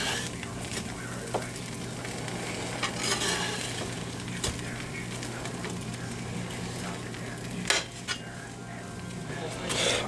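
Grilled cheese sizzles steadily in a pan, a constant close frying hiss with occasional clicks and scrapes of a utensil against the pan, no voices.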